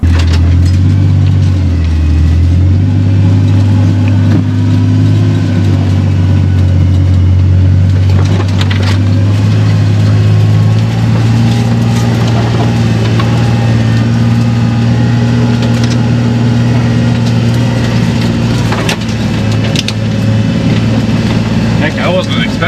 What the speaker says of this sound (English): at least we're driving through the woods